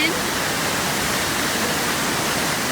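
River water rushing below the Giron Waterfall in Ecuador, a steady, dense broadband roar that holds constant and close throughout without breaks.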